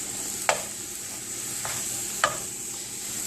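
Low carb corned beef hash, already cooked once, sizzles steadily in a frying pan while a utensil scrapes and stirs it in three sharp strokes; no talking.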